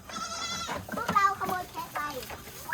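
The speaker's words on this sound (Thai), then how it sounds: "ดูดูแพะเต็มเลยอ่ะ" Several goats bleat in wavering, overlapping cries at a goat farm, close and fairly loud, while people talk nearby.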